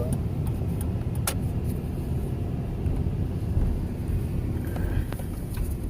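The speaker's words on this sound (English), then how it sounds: "So here I'm just taking the van for a test drive, make sure everything's okay" Steady road and engine rumble inside a Chevy Express van on a test drive, a low continuous drone with occasional faint clicks.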